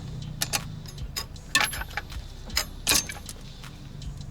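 A breaker bar working on a front brake bolt of a 1995 Daihatsu Hijet S110P, a few close metallic clicks and clanks in short irregular bursts, with quiet gaps between them.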